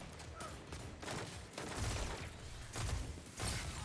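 The Last Perdition pulse rifle from Destiny 2 fires in rapid bursts, a dense, fairly quiet volley of clipped shots that recurs in clusters over busy game ambience, with no talk.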